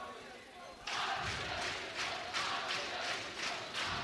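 A high school student section in Chagnon Gymnasium chants and cheers in loud rhythmic bursts during a Mt. Vernon Rams versus Althoff Crusaders basketball game, in a reverberant crowded gym.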